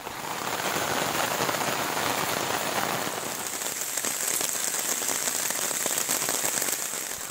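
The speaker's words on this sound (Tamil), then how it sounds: "திருவள்ளூர் மற்றும் அதனை சுற்றியுள்ள பகுதிகளில் விட்டு விட்டு மழை பெய்து வருகிறது" Heavy rain pours steadily in Tiruvallur, Tamil Nadu, during a cyclone, a dense, continuous hiss of drops drumming on surfaces close by, unbroken and loud for the whole stretch with no voices.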